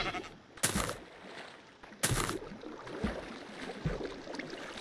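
A sheep bleats repeatedly in the Minecraft video game, near a pond with flowing water. There are two loud bleats and softer follow-ups, all set against a low, steady watery ambience.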